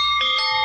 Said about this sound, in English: Your doorbell may ring next